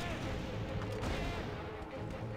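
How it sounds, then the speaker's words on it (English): Sustained automatic machine gun fire in the war game Mercenaries: Playground of Destruction, a dense continuous rattle of rapid shots with heavy booming impacts, steady and loud throughout the whole stretch. "Apparently those things are impervious to frickin' machine gun fire."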